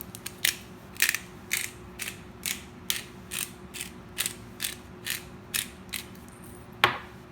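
A hand pepper mill grinds coarse black pepper in steady, evenly spaced crunching ratchet clicks, about twelve in a row, close and fairly quiet, ending with one louder turn.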